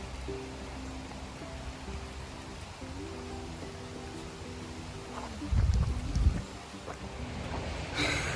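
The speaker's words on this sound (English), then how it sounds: "it's raining" Steady rain falls outdoors at a zoo near closing time as an even hiss, with a low droning hum underneath and a brief louder rumble partway through.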